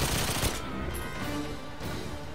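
Gunfire from GoldenEye 007 Reloaded on the PS3 Station level, a rapid burst of shots at the start followed by a lingering, noisy echo that fades out.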